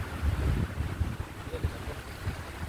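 Strong gusting wind buffets the microphone on a mountain hike toward a summit, a low rumbling roar that swells and dips in uneven waves, with faint voices underneath.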